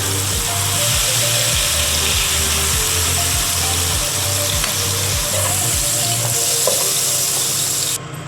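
Mushrooms sautéing in oil in a pan for mushroom butter masala, a loud continuous close sizzle with regular rhythmic scraping strokes of a spoon roughly every half second, with no talking.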